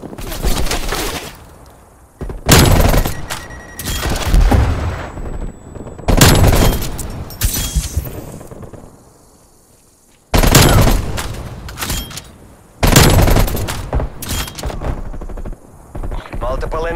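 Enemy sentry turrets in a video game fire in loud repeated bursts of rapid gunfire, separated by short quieter gaps, with a voice announcing over the action.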